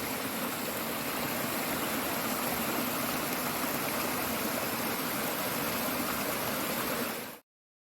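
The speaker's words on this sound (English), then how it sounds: "Good stream too." A flowing stream along the Appalachian Trail gives a steady, full broadband rush of water, close by and unbroken for about seven seconds before cutting off abruptly, with no voices.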